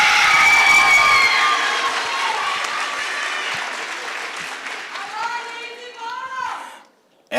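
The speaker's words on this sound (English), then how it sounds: "Let's give another round of applause to Dr." A high school graduation crowd gives loud, continuous applause mixed with cheering voices, holding strong for about seven seconds before cutting off abruptly.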